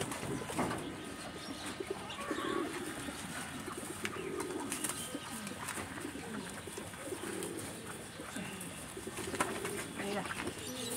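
Homing pigeons back in their loft after a flight, soft repeated cooing from several birds close by over a constant background hum, with occasional rustles and faint wing flutters.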